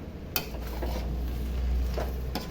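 Shark puttu sautéing in oil in a pan, a steady low sizzle under a few sharp scrapes and clinks of a spoon stirring against the metal, with no talking.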